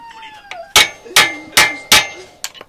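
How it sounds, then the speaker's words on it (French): A large screwdriver is hammered against a screw to break it loose during a clutch change on a Yamaha 100 RT, giving four loud, evenly spaced metallic strikes close up, each ringing briefly, followed by a couple of lighter taps. "je prends un gros tournevis, je viens choquer la vis"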